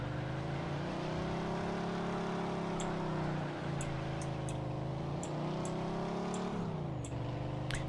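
A steady, droning car engine in the video game Mafia II hums continuously at close range, its pitch dipping and rising slightly as it drives, with faint high clicks over it.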